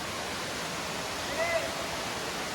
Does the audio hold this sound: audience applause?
no